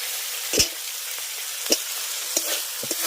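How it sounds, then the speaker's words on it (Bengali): Fried potatoes are sautéed in spice paste for a katla fish curry, a soft continuous sizzle broken by a few sharp spatula knocks and scrapes against the pan, close by. "আলুটাকে মশলার সঙ্গে ভালো করে আগে কষিয়ে নেবো"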